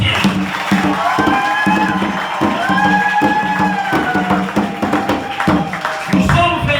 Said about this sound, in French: acclamons pour les Wallisiens.